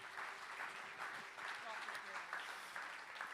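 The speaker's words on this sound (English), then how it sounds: "Big round of applause, please," Audience applause for the Sharelle McMahon Medal medalist at an awards presentation, a fairly faint, steady patter of clapping that runs for the whole stretch with some speech-like murmur mixed in.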